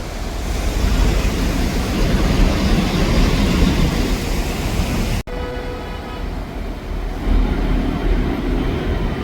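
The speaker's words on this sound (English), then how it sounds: "So the train goes into the building." A train in Chongqing rumbles loudly with rushing, roaring noise, then the sound abruptly shifts to a quieter, more enclosed rumble as it enters a station inside a building.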